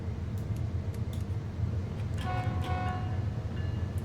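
A heavy grain freight train pulled by six locomotives in Train Sim World 3, a low steady diesel rumble with short horn blasts partway through, moderately quiet with no talking.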